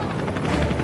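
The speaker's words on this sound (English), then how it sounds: "I hear the propeller noise, I feel the dust, the wind." A U.S. Marines helicopter roars with a loud, dense, steady thrum of rotor and engine noise, close and continuous throughout.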